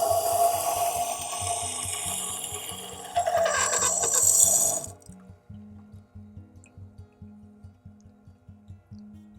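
Scissors blade sharpened on a Tormek wet grinder: a scraping, grinding rasp for about five seconds, then the motor's low rhythmic hum and drip-like pulses continue alone.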